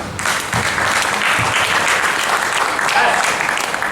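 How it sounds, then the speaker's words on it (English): Steady applause from a group rewarding the other team after a session, dense clapping filling the whole stretch at close range with a few voices mixed in. "Round of applause for the others."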